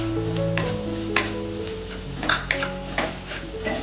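Fish curry masala with coriander powder and a pinch of turmeric sizzles steadily in a pan for Idukki meen curry, with a few soft scraping stirs and light clinks on top of the constant frying hiss.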